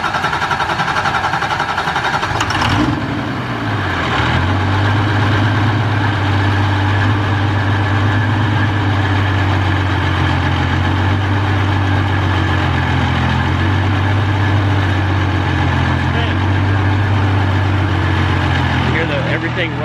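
A heavy diesel pulling-tractor engine idles with a steady low rumble, loud and close, after an opening clatter; a faint voice can be heard under it.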